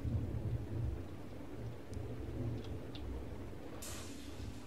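Thunder rumbles low and distant in a video game, a soft rolling murmur under faint rain hiss, with a short brighter crackle near the end.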